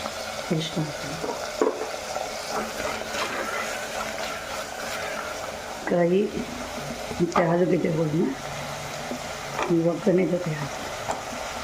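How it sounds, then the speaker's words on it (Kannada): Oil sizzles steadily in a cooker as chopped onion and tomato fry, while a spoon scrapes and stirs in a few short bursts, close by. "ಸ್ವಲ್ಪ ಫ್ರೈ ಮಾಡೋಣ"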